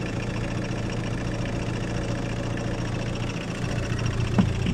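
An Opel Corsa engine with a leaking coolant hose idles at close range, producing a steady, low rumbling drone with an even rhythm and no talk over it.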